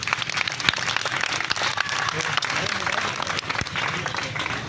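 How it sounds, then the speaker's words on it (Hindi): A crowd applauds steadily, dense clapping filling the space, with a voice talking over it. "इनके लिए तालियां बजाएं"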